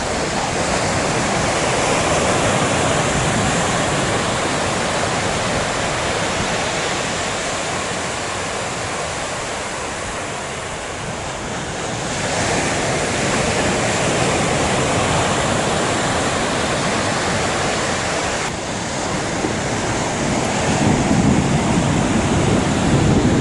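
Ocean surf breaking near a point on Spain's northern Atlantic coast, a steady, loud wash of roaring water that swells and eases over many seconds, with no voices.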